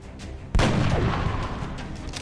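A single heavy gunshot in the XCOM video game, a sudden loud blast followed by a rumbling decay.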